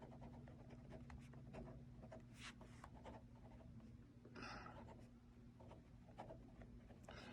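Pen writing in a paper planner, a quiet scratchy rubbing of ink on a page in short irregular strokes, close and soft over a steady low hum.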